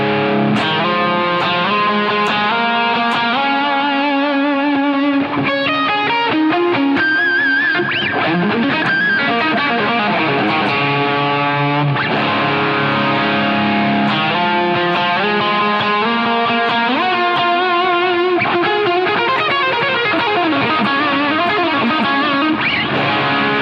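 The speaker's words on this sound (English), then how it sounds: "especially if you like more of the rock style sound, more distortion, more. This one has like a huge like rock intro" Heavily distorted electric guitar plays a big rock-style lead intro, dense sustained chords and melodic lines ringing continuously and loud throughout, with effects-processed tone and no voices.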